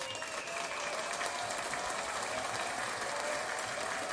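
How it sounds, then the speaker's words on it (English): Steady crowd applause, a continuous wash of clapping at moderate-to-low volume that holds without a break from start to end, with no speech over it. "Can you get the excited applause?"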